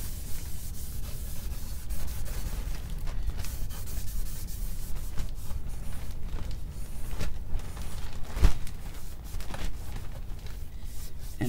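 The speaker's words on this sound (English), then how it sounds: "all we're doing is rubbing it down" Continuous close-up rubbing of a semi-gloss finish on a handmade guitar body, a steady dry scrubbing friction that keeps going with small irregular swells and no pauses.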